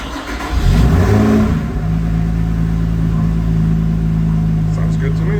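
A 2017 Lotus 3-Eleven cold starts with a cranking burst and a sharp rev, then settles into a loud, steady, close-up high idle that drones on without pause.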